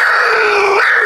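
A handmade clay jaguar whistle from Teotihuacán is blown up close, giving one loud, sustained, howling roar-like tone that wavers and shifts pitch briefly before cutting off after about a second.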